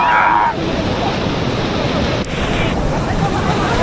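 Strong, cold water rushing hard at a secluded spot near Wai, a loud continuous roar and wash filling the whole moment with a brief bump partway through.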